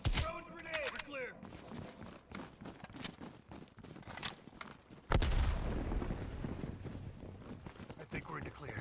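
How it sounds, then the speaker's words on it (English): Gunfire and a grenade explosion in Call of Duty Black Ops Cold War: scattered shots and footsteps under a voice, then a sudden loud blast followed by a lingering rumble. "Throwing grenade!"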